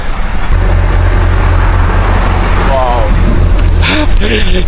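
Vehicles on the main highway road by an airport in Cyprus make a steady, loud, close engine and road rumble that never lets up, with a voice heard briefly near the end.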